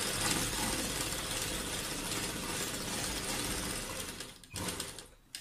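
A domestic sewing machine stitches a garment neckline in a steady continuous whir of rapid needle strokes, close and fairly quiet, then slows and stops near the end with a few faint clicks.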